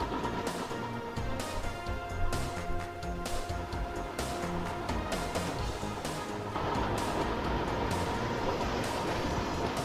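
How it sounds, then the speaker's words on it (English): Trains running in the video game Chris Sawyer's Locomotion, a layered rumbling, clattering game soundscape with rhythmic mechanical pulses and tonal hums that grow slightly louder partway through, with no talk. "trains going over, trains going under."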